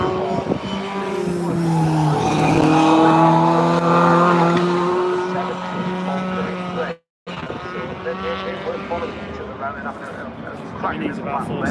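Historic race cars accelerating at Donington Park Historic Festival: loud engines rising in pitch as they pass, with tire noise, while a commentator talks throughout, a brief dropout midway.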